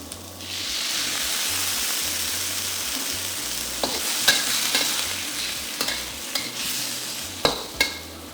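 Sauce poured into a hot pan of shrimp, carrots and broccoli sizzles loudly and steadily, with a constant frying hiss and occasional sharp spatters and pops from stirring.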